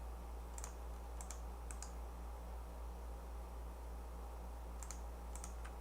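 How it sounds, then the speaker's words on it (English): Keys on a computer keyboard click in a few short bursts of light taps over a steady low hum, quiet and sparse. "Somebody's typing"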